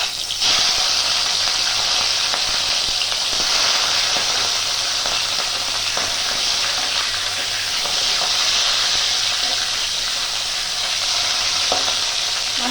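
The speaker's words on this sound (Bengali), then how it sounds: "তেলটা গরম হয়ে গেছে, মাছটা দিয়ে দেবো।" Fish drops into hot mustard oil with a sudden burst, then a loud, constant close-up sizzle and crackle holds steady for the rest of the stretch, with no voices.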